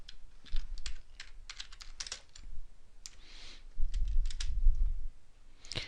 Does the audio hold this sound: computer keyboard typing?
yes